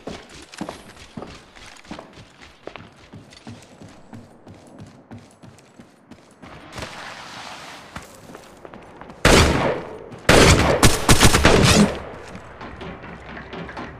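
Gunfire in the mobile battle-royale shooter Apex Legends Mobile, with light footsteps and scattered shots that give way to loud, dense bursts of automatic fire near the end.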